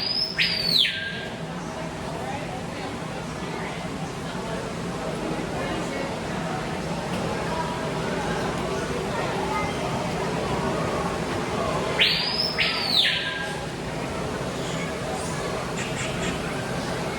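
High bird chirps sound twice, far apart, inside an indoor aquarium aviary, faint against steady crowd babble and nearby talking.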